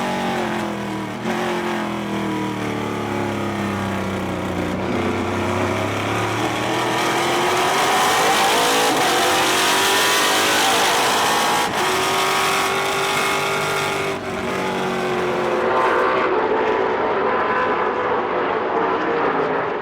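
TA2 series race cars battling for position on an oval-style raceway, several engines roaring and rising in pitch as they pass close by, a steady loud drone with shifting Doppler sweeps, and no one talking over it.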